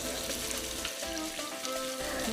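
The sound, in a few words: banana caramelizing in a pan with rum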